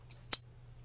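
One crisp snip of large scissors cutting mesh ribbon for a wreath, preceded by a faint click, close and otherwise quiet.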